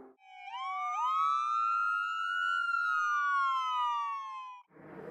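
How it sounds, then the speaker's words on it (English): A Calgary EMS ambulance siren in wail mode rises sharply, holds a long high tone, then slowly falls, clear and loud with no talking over it. "The first siren sound, which is the most common, is called wail"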